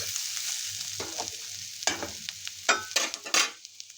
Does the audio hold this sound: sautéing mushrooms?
yes